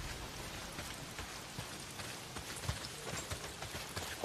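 Heavy rain in the video game Days Gone pours down as a dense, continuous patter with scattered heavier drops, steady and fairly even throughout.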